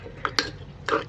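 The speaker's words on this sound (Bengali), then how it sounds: "আমি ঘুটে দিচ্ছি।" Egg omelette mixture with cumin powder and spices is stirred in a bowl, three quick light clinks and scrapes of utensil against the dish over about a second, close and fairly quiet.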